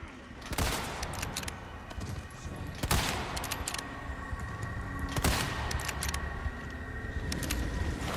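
Gunfire in the Resident Evil 4 Remake video game: three loud, sharp shots spaced a few seconds apart over a dense, continuous in-game background of noise and rumble.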